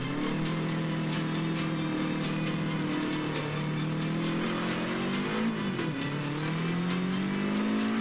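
Race car engine in the Forza Motorsport 5 video game, holding a loud, steady high drone throughout with pitch shifts as it revs and shifts gears, faint tire noise underneath.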